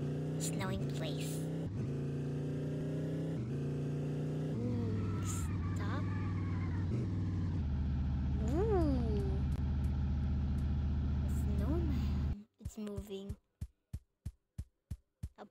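Video-game car engine in a snowy area, a steady droning hum with shifting pitch and a few rising revs, then the engine stops and a series of short rhythmic thumps follows, with a person talking over it.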